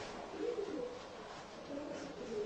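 Racing pigeons coo softly in low, throaty phrases that rise and fall in irregular bursts, close by against a steady background hiss, with no talking.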